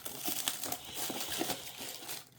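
Close, continuous crinkling of the plastic packaging on an MSI Forge GK600 TKL Wireless Sky keyboard, with crisp rustling bursts that trail off at the end.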